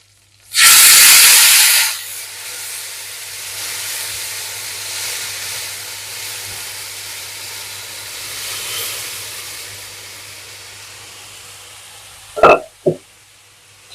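Leftover cooked dal for cucumber dal (dosakaya pappu) hits hot tempering in a steel pan with a loud, sharp hissing burst that lasts about a second. A steady low sizzle and simmer follow, then two quick metal clinks near the end.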